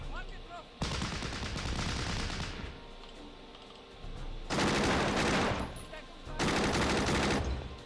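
Bursts of strafing gunfire against an enemy infantry squad in the WWII strategy game Battle Academy, three loud sustained volleys of rapid automatic fire separated by quieter rumbling battle ambience.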